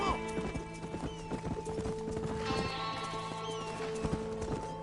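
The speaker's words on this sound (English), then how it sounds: "Get back on that horse." Horse hooves clip-clop steadily in Red Dead Redemption, with a horse whinnying partway through, over a continuous game soundscape with talk nearby.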